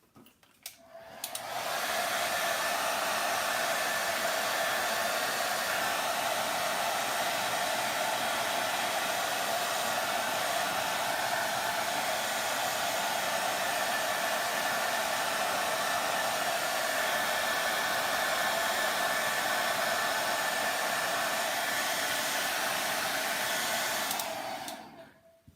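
A hair dryer dries paint on a jewelry box, switching on to a steady whooshing whine with a tonal hum that runs evenly for over twenty seconds before cutting off.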